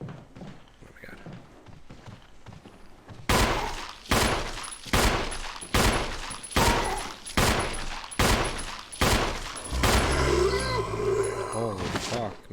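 Rapid, loud gunshots blast at a zombie in the game Resident Evil HD, about a dozen evenly spaced shots followed by a snarling, roaring creature noise near the end.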